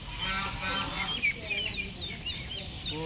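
Ducks squabble at a bird park in Thanjavur, Tamil Nadu, with scattered harsh quacks and squawks over busy background crowd noise, where people talk nearby.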